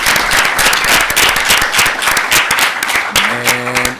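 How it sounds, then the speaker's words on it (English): An audience at a city council meeting claps and applauds steadily, a dense, loud wash of many hands that continues throughout, with a brief tonal hum near the end. "Maybelle a round of applause"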